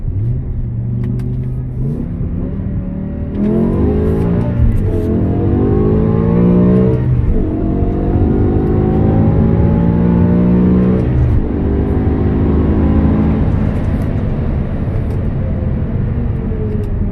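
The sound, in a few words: 2008 BMW M6 engine accelerating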